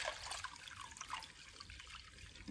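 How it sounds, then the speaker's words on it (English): Warm water pours and trickles into a sourdough bread mix in a bowl, a faint, close, uneven splashing that runs continuously without voices. "And I'm now gonna add 500 grams of warm water."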